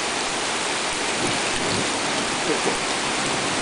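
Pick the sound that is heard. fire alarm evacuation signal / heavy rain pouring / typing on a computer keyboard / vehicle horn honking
heavy rain pouring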